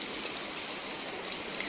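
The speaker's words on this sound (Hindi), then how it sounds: "तो बस तो अभी हो गई है यहाँ पे तेज बारिश" Heavy rain pouring down in a town street lined with shops, a dense steady hiss close by and unbroken, with no voices.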